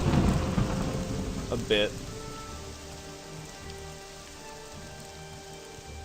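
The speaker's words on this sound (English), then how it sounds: "The rain is slowing down" Rain and thunder in The Elder Scrolls, a rumbling roll of thunder fading away at the start over steady pattering rainfall that continues softly throughout, with a brief spoken voice partway in.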